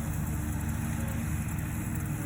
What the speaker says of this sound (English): Sorry for the noise of the mower, my husband's mowing.